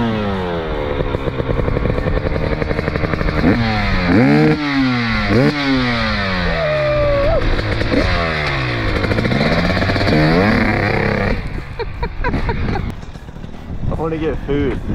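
Two-stroke dirt bikes, including a YZ250 and a YZM500, rev and ride with sharp rising and falling whines, repeated throttle blips and gear changes, loud and close before the engine note drops to a choppier idle, with people talking.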